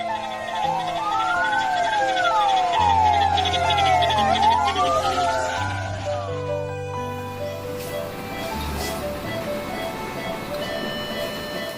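An ambulance siren wails loudly in rising and falling sweeps for several seconds, then cuts off and leaves a low background hum.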